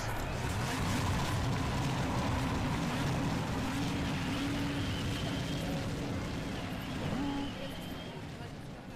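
Field of race cars idling and rumbling after engine start in an iRacing Road to Indy eSeries event, a dense low throbbing roar with a rising tone mid-way, fading slightly at the end.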